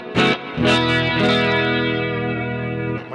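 Charvel San Dimas electric guitar through a Guitar Rig 5 Jazz Amp mono-to-stereo preset with heavy compression rings out a few picked notes and then a full, sustained chord, clean with wide effects, alone.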